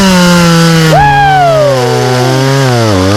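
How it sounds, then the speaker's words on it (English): A chainsaw runs loudly and close while cutting a dead tree. Its engine drones steadily, then its pitch rises sharply and slowly sinks as the chain bites into the wood. "we're gonna deal with this tree the most manly way possible with a chainsaw"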